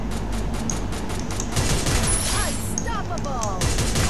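Gunfire in a Garena Free Fire solo-versus-squad match, continuous loud rattling bursts of shots with overlapping game sounds, dense and close throughout.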